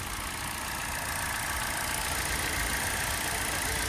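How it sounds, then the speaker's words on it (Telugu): A 2010 Hyundai i20 Asta petrol hatchback idles steadily with its bonnet open, a smooth, even engine hum with faint fan whir and no voices. "ఇంజన్ బీటింగ్ అయితే సైలెంట్ ఉంది."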